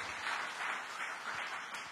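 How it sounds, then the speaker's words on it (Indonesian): A church congregation applauds during a sermon, a soft, steady wash of many hands clapping at a distance that holds evenly for a couple of seconds. "Yang mau tepuk tangan yang meriah bagi Tuhan Yesus"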